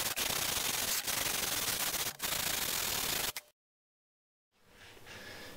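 Steady, loud abrasive rubbing of hand-sanding steel CNC rails fills most of the clip, cut by a few brief pauses, then a second of silence before a softer scraping resumes.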